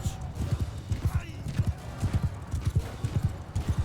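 A horse gallops in Mount & Blade II Bannerlord, its hoofbeats a quick, steady, rhythmic clip-clop throughout, with a faint whinny mixed into the battle noise.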